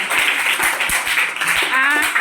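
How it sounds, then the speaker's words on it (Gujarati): Schoolchildren in a classroom clap to applaud a classmate's rapid-speech activity, giving a steady patter of many small hands that runs under a faint wash of voices. "એમના પ્રયત્નને આપણે તાળીઓથી વધાવીશું"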